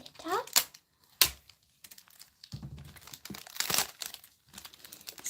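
Sticky tape is peeled off foil laid on polymer clay, giving several sharp crinkling and tearing bursts separated by pauses, close and fairly loud, with a quiet voice talking in between.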